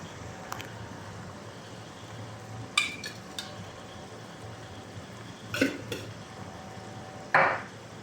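A utensil clinking against a bowl while seasoned food with black pepper and salt is mixed, a few sparse faint clinks and scrapes over a quiet room hum.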